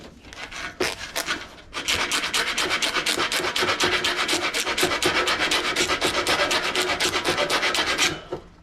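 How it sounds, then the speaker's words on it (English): A round file rasps burrs off a bicycle rim in quick, even back-and-forth strokes, close and loud, after a few short scrapes at the start and before stopping near the end. "Now we're going to take a round file."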